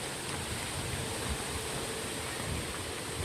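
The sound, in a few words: strong wind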